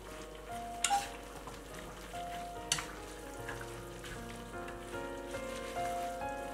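Steamed noodles and cabbage being stirred in a pan, with soft scraping and a low sizzle, a couple of sharper utensil knocks, and a faint tonal hum in the background.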